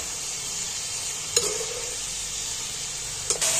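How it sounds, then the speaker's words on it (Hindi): Chicken fries in oil with ginger, a quiet steady sizzle broken by two brief scraping stirs of a spoon against the pot. "हमारी चिकन अच्छी तरह से अदरक के अंदर फ्राई हो गई है, अदरक और ऑयल के अंदर"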